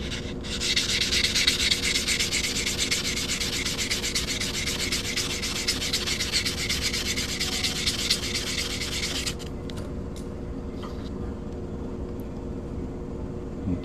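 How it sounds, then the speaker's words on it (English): Steady, loud abrasive rasping of sanding on the cut edge of a quarter coin ring runs for about nine seconds, then stops, leaving a quieter background hum. "I need to sand this cut edge first to make sure it doesn't start to split"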